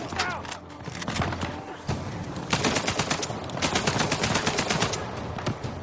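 Gunfire in a shooting video game, with rapid bursts of sharp shots and automatic fire crackling in clusters, moderately loud against a busy game background.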